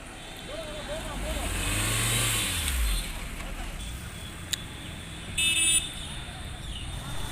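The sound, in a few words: cars of the wedding party arriving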